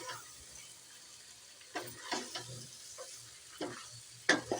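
Chicken liver with chopped capsicum and green chillies is stirred in a pan, giving a few soft, intermittent scraping strokes over a faint, low sizzle, with no talking.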